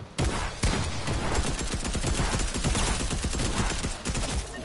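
Rapid video game gunfire from a combat shotgun, a loud, dense barrage of blasts crackling almost continuously for several seconds.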